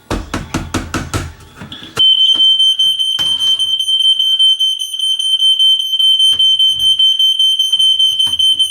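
A faulty smoke detector gives a rapid burst of chirps, then settles into a loud, continuous high-pitched tone broken by a few clicks and knocks.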